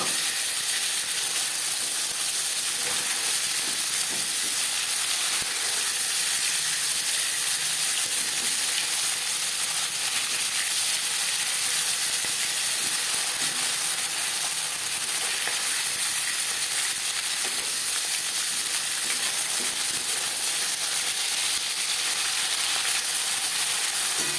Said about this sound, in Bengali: মাছ একটা সাইজ ভাজা হয়ে গেলে অপর সাইজটা উল্টে দেবে